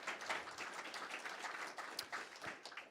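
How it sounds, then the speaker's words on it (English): Conference audience giving a closing round of applause at the end of a sales session, moderately faint, continuous clapping from a seated crowd with a few sharper individual claps. "One more round of applause."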